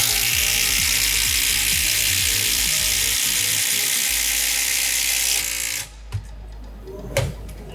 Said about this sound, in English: We're going to drive 5-inch ledger locks into 6x6 pressure treated wood